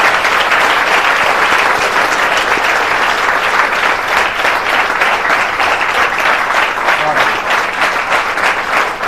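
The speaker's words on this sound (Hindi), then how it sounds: "एक बार ज़ोरदार अपने लिए तालियां बजाइए।" Students in a classroom break into loud, sustained applause, a dense even wash of many hands clapping close by that holds steady from start to finish with no talk over it.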